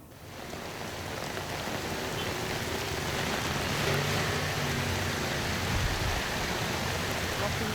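Heavy rain pours down on Jalan Raya Plumpang Semper Koja in North Jakarta, where the street is flooded. It makes a dense, steady roaring hiss, loud and continuous throughout.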